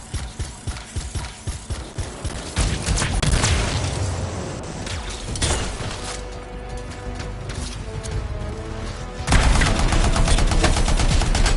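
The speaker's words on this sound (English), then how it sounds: "It'll be a contained explosion." Canisters blowing up in a contained trap in a PS4 video game, a rapid burst of sharp blasts and crackling gunfire-like bangs, loud and dense, with a heavier surge of booms near the end.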